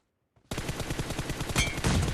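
Automatic rifle fire from the PUBG Mobile video game starts abruptly after a brief silence and continues as a fast, loud stream of evenly spaced shots to the end.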